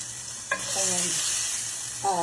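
Seasoned cube steaks searing on a stovetop pan give a continuous close hiss, with a brief clink near the start and a faint voice-like murmur underneath at times.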